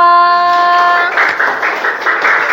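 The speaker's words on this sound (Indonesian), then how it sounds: "Tepuk tangan untuk kelompok 2" A school class applauds a student group after its presentation: a sustained tone fades out, then a burst of lively, dense clapping from a roomful of children follows close by.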